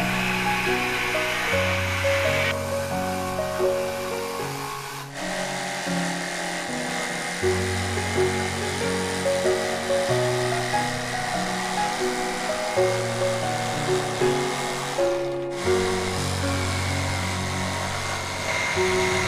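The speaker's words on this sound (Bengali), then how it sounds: "জিপসো মেশিন দিয়ে রাউন্ডটা কাটা হচ্ছে" A jigsaw machine cuts rounds in wood for a box bed, giving a loud buzzing motor drone with shifting pitch as it bites through the board, pausing briefly twice.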